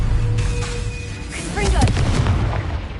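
Spell blasts in Hogwarts Legacy, heavy booming bursts layered with whooshing magical tones, loud and close over a short busy stretch, with a voice shouting among the impacts.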